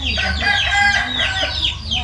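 At a rural Thai home, chickens cluck busily and a rooster crows, loud and close, in overlapping calls that fill the whole stretch.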